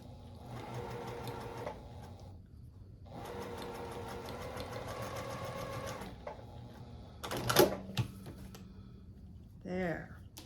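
A sewing machine stitches quilt fabric in steady runs, loud and close, with a brief pause between bursts and a few sharp handling clicks and knocks near the end.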